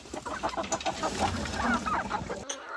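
A farm hen clucks repeatedly, close and clear. Other chickens and fowl sound around her in a busy coop, and nobody speaks.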